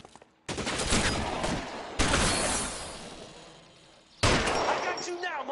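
Gunfire from a shootout in L.A. Noire, with three loud, dense volleys of rapid shots, each starting abruptly after a brief pause.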